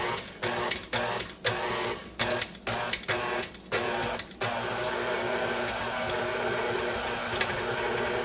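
An electric mixer churns thick pecan roll cookie dough, switched on and off in short bumping bursts at first, then running continuously with a steady motor whir and strained rhythmic knocking.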